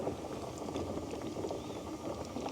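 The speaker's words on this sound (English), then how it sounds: "Now we gotta get some water boiling on the other side to heat up the sauce without exploding anything." Water heating to a boil on a camping stove at an evening campsite in Salt Fork State Park, Ohio, giving a steady, close bubbling hiss with a low rumble that holds constant throughout.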